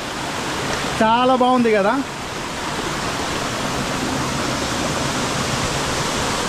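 Rushing water from Dudhsagar waterfall on a trekking route, a dense, constant roar that fills the whole clip, with a brief spoken remark near the start.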